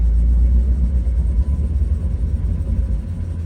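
A converted electric 1975 Volvo 164 accelerating, heard as a loud, steady low rumble of road and drivetrain noise with no engine note and a slight dip midway, with no talking.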